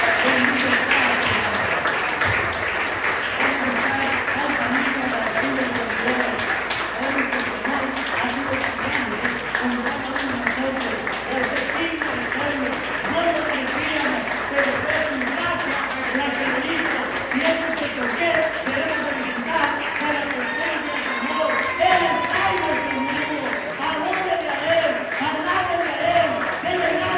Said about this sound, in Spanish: Denle palmas a Él.